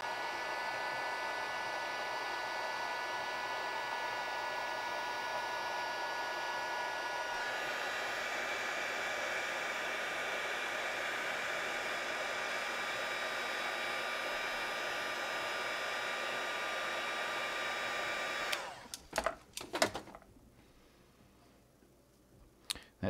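A hair dryer blows steadily and close for about eighteen seconds, heating plastic tubing to shrink it, then cuts off, leaving a few clicks and handling sounds.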